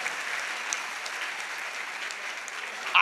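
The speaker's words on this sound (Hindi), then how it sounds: "इस बात के लिए एक जोरदार ताली बजाइए आप सारे लोग।" A crowd at a political speech gives sustained applause, a steady dense wash of clapping lasting throughout, moderately loud with no voices standing out.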